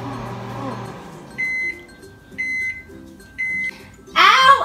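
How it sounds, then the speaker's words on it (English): A microwave oven softening butter hums steadily while emitting three evenly spaced electronic beeps, with a short burst of a voice at the end. "you're just going to pop it in the microwave"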